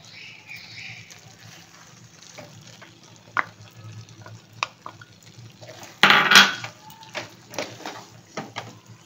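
Shrimp being stirred in cream in a frying pan for pasta, low sizzling with scattered scrapes and clinks of a utensil on the pan, including one louder burst of stirring midway.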